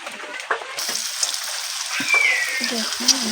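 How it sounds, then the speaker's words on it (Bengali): Lentil pakoras made from a spiced lentil and gram-flour batter deep-frying in hot oil in a kadai, a steady crackling sizzle with a few clinks and stirring sounds, close by and moderately loud. "পকোড়ি ছাকা হচ্ছে।"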